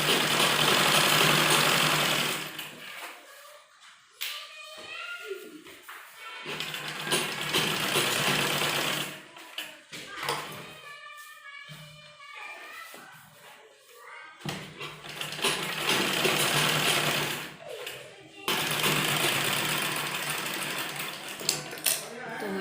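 A sewing machine stitching around the neckline of a kurti, its motor whirring in loud rapid bursts separated by pauses, with someone talking during the quieter gaps.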